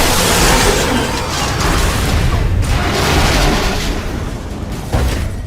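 A big explosion in the Lego Marvel Super Heroes video game blasts out loudly, followed by a long rumbling roar and debris that slowly fades, with another sharp burst near the end.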